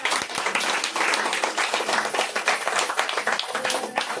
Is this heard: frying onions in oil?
no